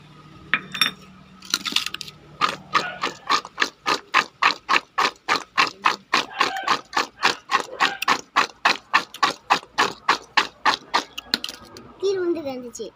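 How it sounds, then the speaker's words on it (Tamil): Small gooseberries are tossed with chili powder and salt in a vessel, making a long run of quick, regular rattling clicks, roughly three per second, close and fairly loud. "இந்த வத்தல் தூளையும் உப்பையும் மிக்ஸ் பண்ண போகிறேன்"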